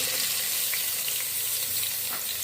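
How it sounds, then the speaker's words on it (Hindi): Onions sizzling and frying in hot cooking oil for a vegetable pulao, a steady broadband crackle with faint stirring clicks, close and continuous with no voices. "और प्याज को हम फ्राई कर लेंगे।"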